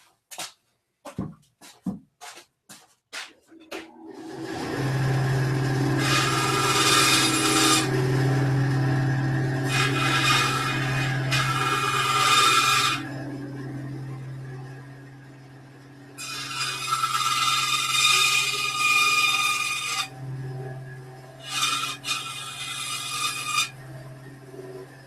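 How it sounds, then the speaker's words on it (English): Rough cutting on a bandsaw and cleanup on a disc sander for a prop rifle greeble part: a steady machine hum runs throughout under several long, loud rasping bursts of material being cut and sanded, with a few sharp knocks at the start. "I'm going to rough cut this on the bandsaw and clean it up on the"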